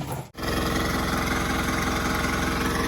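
A farm irrigation water pump's engine runs steadily at a close, loud, even idle with a strong harmonic hum, broken once by a brief dip near the start, as fields are watered for planting bitter gourd.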